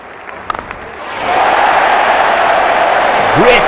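A stadium crowd in the cricket video game Real Cricket 2019 swells into a loud, sustained roar of cheering after a few faint claps, rising and holding steady to the end.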